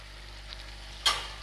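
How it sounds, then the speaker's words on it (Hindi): Paneer mixture frying in a pan with black pepper, a faint steady sizzle with a quick scrape of stirring, then a sharp burst of hissing near the end. "थोड़ा सा इन्हें चलाएंगे"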